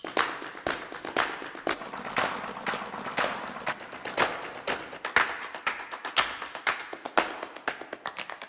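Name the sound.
clap, snap and footstep samples from Shimmer Shake Strike 2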